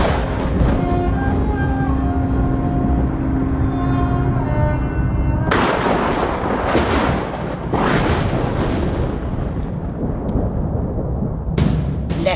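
A burst of loud, booming gunfire erupts midway over a tense musical drone, several heavy reports in quick succession, then a final sharp shot.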